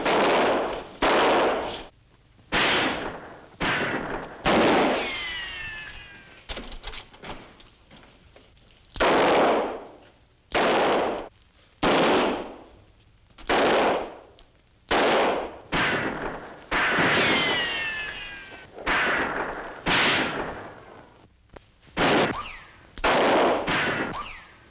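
Gunfire in an old 1951 mystery drama, a string of about ten loud, sharp reports spaced irregularly across the stretch, each with a ringing decay, standing alone without talk.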